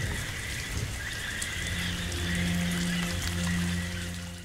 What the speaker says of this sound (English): A rainstorm batters the primordial swamp of Jurassic Norfolk.